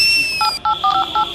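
A phone keypad dials out to call a contractor: a steady dial tone cuts off, then about five short, distinct touch-tone beeps follow in quick succession, loud and close.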